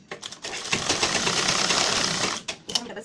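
A sewing machine runs a steady, fast whir of double stitching along the tucks of a blouse, nearly three seconds long, with short starts and stops at either end.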